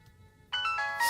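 A phone ringtone starts abruptly after a half-second of quiet and plays loud and bright in repeating bursts to the end, with no talk.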